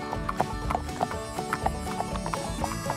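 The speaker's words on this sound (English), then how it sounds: "Wonderful, she's a Tennessee Walker." A Tennessee Walker horse clip-clops along in Amish country, with steady, evenly spaced hoofbeats close by over a low background rumble.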